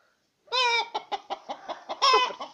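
A hen sitting on eggs clucks close by in a quick run of loud, rhythmic calls, opening and closing with longer drawn-out squawks, with no other sound around it.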